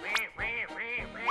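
A human voice imitates a duck quacking, giving three nasal, close quacks in a steady rhythm with no other sound.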